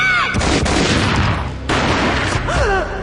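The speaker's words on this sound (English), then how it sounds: "A gunshot boomed and she fell down in slow motion." Heavy gunshots from the Max Payne Mobile video game boom in a couple of loud, sharp bursts, layered with swooping tonal effects from the game's soundtrack.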